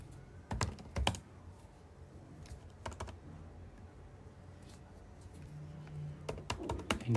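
Someone enters a command on a computer keyboard, a few quick bursts of clicking keystrokes separated by quiet pauses, close and fairly soft.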